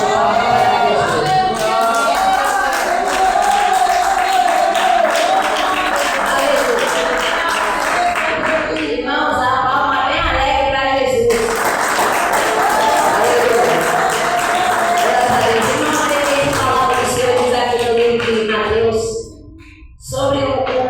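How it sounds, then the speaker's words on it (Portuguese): A church congregation claps together in a long, loud, steady round of applause with crowd noise and voices mixed in. It fades abruptly near the end. "dar uma linda salva de palmas para Jesus"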